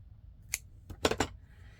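Scissors cut pink thread for a junk journal: one short snip, then a quick double snip, close and clear over a quiet room.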